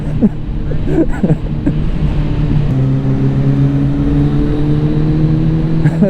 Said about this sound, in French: c'est tellement kiffant d'être sur une moto qui a une petite sonorité sympa